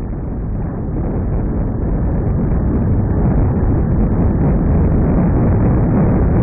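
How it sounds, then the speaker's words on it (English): Seismic waves passing through a glacier, converted into sound, form a steady, dense low rumble with a gritty, crackling texture, constant in level throughout. "The sound you're hearing was produced by converting seismic waves that pass through the glacier."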